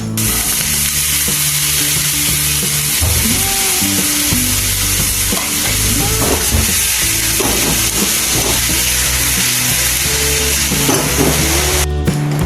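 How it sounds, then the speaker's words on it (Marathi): Spiny gourd (kantoli) sautés in oil for a traditional Konkan vegetable dish, giving a loud continuous sizzle with repeated spatula scrapes and clinks against the pan, close up and with no voices. "पहिले थोडंसं तेल टाकून तेलावर परतून घेऊयात।"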